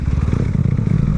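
Motorcycle engine droning steadily while riding through traffic, a close, loud low rumble with clattering texture, no speech.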